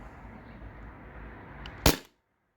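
A modified Sabre 68 HDL paintball marker running on CO2 fires close by. Its muffled rushing hiss ends in one sharp, loud pop and then falls silent.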